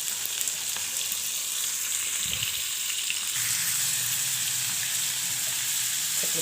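Fish fries in a pan with a continuous, even sizzle, and brief clatters and scrapes come as the pieces are turned.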